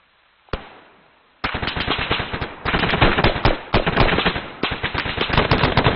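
Rapid bursts of automatic gunfire during military platoon training, a single shot first, then sustained loud overlapping volleys of machine-gun fire for several seconds, close and continuous.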